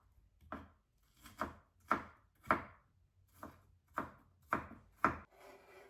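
A knife chops through an onion on a wooden board, eight distinct close strokes at a fairly even, unhurried pace, each a sharp crunchy thud fading quickly, with quiet pauses between and no voices.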